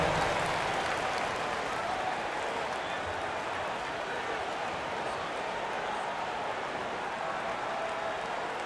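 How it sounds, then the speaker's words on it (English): A round of applause rises from the crowd at a Memphis Grizzlies versus Los Angeles Clippers basketball game: steady, dense clapping that fills the arena without a break. "Give yourself a round of applause"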